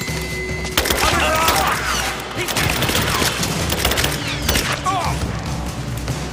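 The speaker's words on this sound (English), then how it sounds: "Open fire! Keep her down!" Gunfire during a firefight in Rise of the Tomb Raider, sharp cracks and bursts mixed with splintering impacts and thuds, loud and close, with shouted voices between the shots.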